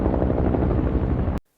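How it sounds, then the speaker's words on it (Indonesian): A helicopter from the film #Alive thunders loudly with a dense, pulsing rotor chop that holds steady before cutting off abruptly to silence. "mereka mendengar suara helikopter"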